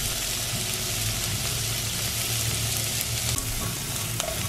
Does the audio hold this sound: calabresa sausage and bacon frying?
yes